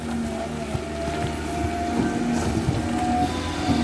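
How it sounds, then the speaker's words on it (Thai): A Caterpillar diesel engine runs on an amphibious excavator doing dredging work, a steady, loud low rumble with a constant hum and faint tonal whine throughout, no voices. "เครื่องยนต์แคตเตอร์พิลล่าครับ"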